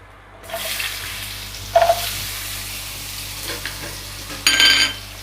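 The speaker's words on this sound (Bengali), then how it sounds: "দিয়ে আমি আলুগুলোকে ভেজে নেব।" Potatoes fry in hot oil with whole cumin seeds and two bay leaves, giving a close, steady sizzle and crackle with occasional stirring and spatula clinks, with no voices.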